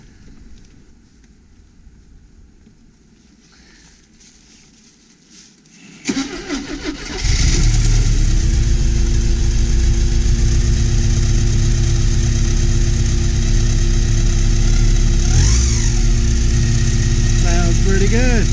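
An 1985 Porsche 944, just fitted with new belts and vacuum lines, cranks and fires up after a quiet lead-in, then settles into a loud, steady idle with a slight rev, close by.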